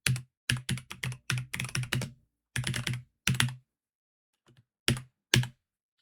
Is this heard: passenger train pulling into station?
no